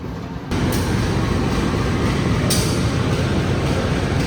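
Train locomotive at a station platform on track 1, running as a loud continuous rumble that swells sharply after a short quieter lead-in, with faint metallic squeals above, alone without voices.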